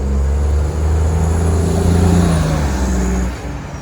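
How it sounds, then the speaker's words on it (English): A 2005 bus pulls into the Longueuil bus terminus, its engine droning low and steady up close, with an air brake hiss suggested, then the rumble drops away near the end. "There's another bus coming in."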